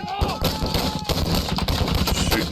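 Rifle gunfire during Marine Corps infantry training outdoors, rapid overlapping sharp cracks in quick bursts, loud and close, with faint voices in the background.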